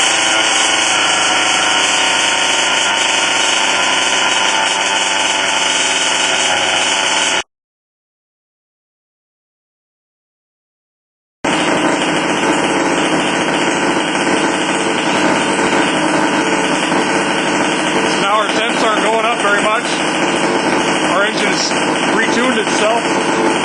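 A BZM model engine, a small high-revving unit, runs loud and close with a steady buzzing whine, cuts out for a few seconds of silence, then restarts and runs on.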